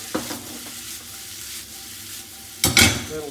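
Vegetables cooking in a pot for chicken soup, tossed with a utensil; a soft sizzle with a light knock early on, then a loud burst of stirring and scraping near the end.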